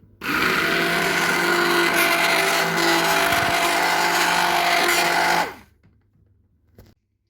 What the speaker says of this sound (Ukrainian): Я проблендерую їх ручним блендером.